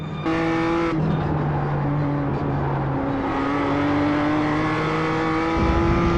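BMW M2 CSR race car in iRacing at Canadian Tire Motorsports Park, its engine droning loud and steady with rising and shifting tones through gear changes, continuous close-up drive.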